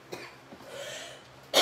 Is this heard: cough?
yes